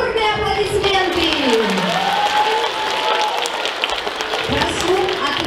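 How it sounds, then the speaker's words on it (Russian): A school crowd claps loudly and steadily at a last-bell ceremony in a primary school, a dense continuous wash of applause with a few cheers and a voice rising over it. "Бурные аплодисменты!"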